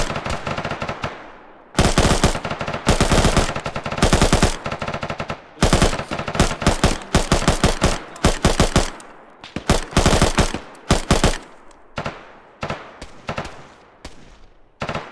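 Machine gun fire in the video game Arma: repeated loud automatic bursts of varying length separated by short pauses, close and dominant, with sharp single-shot cracks toward the end.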